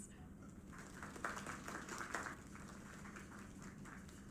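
Soft, distant applause from a small group, a brief patter of clapping that swells slightly and then fades.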